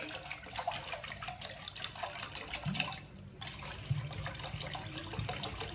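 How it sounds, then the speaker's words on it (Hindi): Water poured into a tamarind and dried plum mixture for a summer sharbat, a steady close splashing trickle that runs for several seconds with a brief pause midway, no talking. "इसमें पानी डाल लेंगे।"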